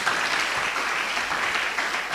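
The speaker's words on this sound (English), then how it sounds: "Please, let's clap for them. Let's clap for them." Continuous applause from an audience at an induction ceremony, many hands clapping in a thick, even wash that stays steady and fairly close throughout.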